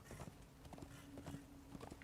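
Horse hooves clip-clopping in the video game Darksiders 2 as a glowing horse is ridden, a steady rhythmic trot of repeated hoofbeats at moderate volume over a faint ambient hum.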